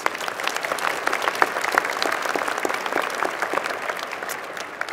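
A second round of applause from a commencement crowd at an engineering school ceremony, steady dense clapping throughout, moderately loud with a few sharper claps near the front.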